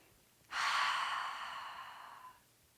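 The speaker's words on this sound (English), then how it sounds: "So taking a nice deep clearing breath here." A single long, deep exhaled breath during morning pranayama practice, rushing out close and audible for about two seconds and then tapering off, with no talk.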